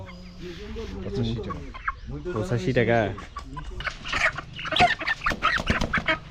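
Chickens cluck at a poultry market in Bangladesh, the birds close and audible between and under bursts of conversational speech.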